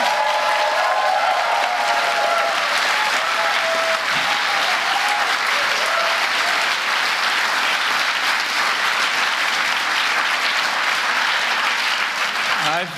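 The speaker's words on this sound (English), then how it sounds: "Nice round of applause for Joe." At a global business forum, a large audience applauds a speaker, dense steady clapping filling the hall for over ten seconds, loud and sustained with faint crowd murmur beneath.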